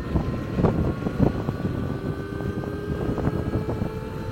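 Revolt RV BlazeX electric motorcycle pulling away at full throttle on an open stretch toward about 65 km/h, a steady rising motor whine with rushing wind and road rumble, close and continuous.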